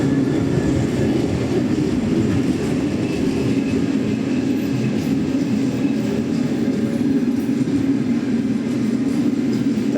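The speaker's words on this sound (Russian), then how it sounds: "Что ж, вот и прибывает мой поезд." A passenger train pulls into a station with a steady, loud rumble of wheels on rails and faint clickety-clack, continuous and close throughout, with no voices.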